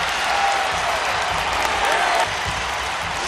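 An arena crowd at the Palace of Auburn Hills roars and applauds loudly and continuously after a Pistons three-pointer against the Celtics, a dense wash of cheering that holds throughout.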